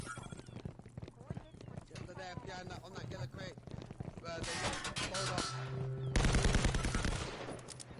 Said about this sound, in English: And shots are already fired.